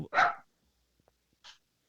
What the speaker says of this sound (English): they come up and get him started barking